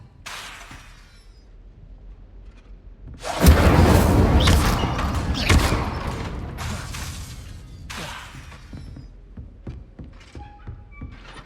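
An Incendio fire spell is cast in Hogwarts Legacy as a sudden roaring burst of flame. It flares loudly for a couple of seconds, then trails off, and softer magical swishes follow.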